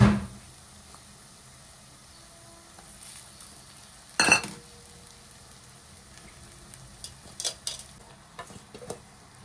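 Soaked poha flakes tipped into a pan and stirred in, a quiet low sizzle with soft scraping, a sharp clatter midway and a few light clinks toward the end.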